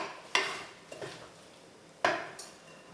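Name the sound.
spooning muffin batter into cases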